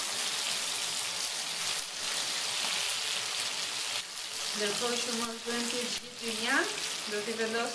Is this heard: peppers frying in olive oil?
yes